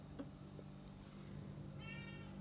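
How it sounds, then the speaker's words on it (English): A cat meows at another cat from the far side of a window, a short tonal call rising near the end over a steady low indoor hum. "Here's Mama Cat taunting him through the window."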